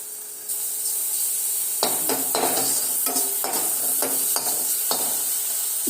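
Garlic and chili sizzle loudly in hot oil, with a spoon stirring and scraping the pan in repeated strokes, close up and without voices.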